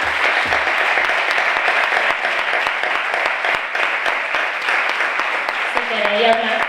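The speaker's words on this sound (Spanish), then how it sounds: "pues pido un aplauso para ella" Audience applause at the close of a talk on dyslexia, a loud, sustained crackle of many hands clapping, with brief voices audible under it.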